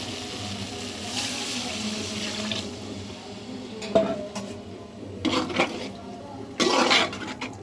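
Water runs into a pan of fish curry, a soft continuous pour near the mic punctuated by a few bright clanks of utensils against the cookware.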